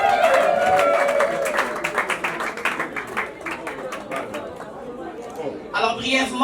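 An audience applauds for a woman standing at an evening show, the clapping fairly loud and steady at first, then thinning into scattered claps beneath chatter, with a brief louder burst near the end.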